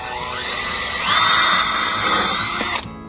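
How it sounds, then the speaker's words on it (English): A handheld power drill bores a hole, its motor rising to a high, strained whine as the bit cuts through, then cutting off abruptly; close and loud, with no talking. "You'll be much more successful in your projects if you drill nice straight holes."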